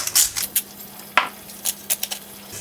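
Artichoke pieces tossed with oil, paprika, chili, salt and pepper in a bowl give a run of light clinks and wet scraping taps, irregular and close, with short quiet gaps between strokes.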